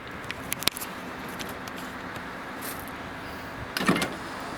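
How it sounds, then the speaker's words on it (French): A Nissan S14 being lowered on a garage car lift, heard as a quiet, steady motor hum with a few sharp clicks early on and a brief louder rattle near the end. "Donc je vais rebaisser à nouveau la voiture."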